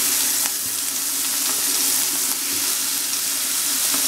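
Thick homemade hamburger patties sizzle in a hot pan, a loud, steady, crackling fry that runs the whole time with no voices.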